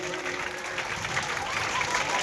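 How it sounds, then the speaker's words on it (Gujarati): An audience at a secondary school entrance festival program applauds steadily, a dense, moderately faint wash of many clapping hands with a voice faintly mixed in. "આપણે જોરદાર તાળીઓથી વધાવશું"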